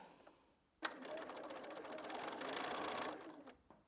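A Bernina sewing machine with its stitch regulator runs steadily through free-motion quilting. It starts abruptly after a quiet moment and hums close and continuous for about three seconds before stopping.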